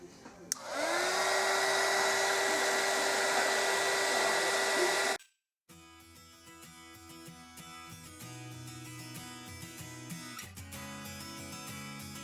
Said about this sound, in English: So now I'm going to grab my heat gun